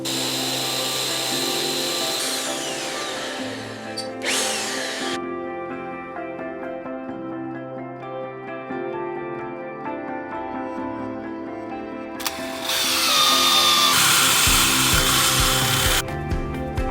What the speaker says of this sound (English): don't be making fun of my Titan drill.